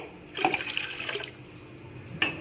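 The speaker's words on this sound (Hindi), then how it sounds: "500 ml पानी ऐड कर देंगे" Water pours and splashes steadily into a pressure cooker for a couple of seconds, then trickles more quietly, with a brief splash at the end.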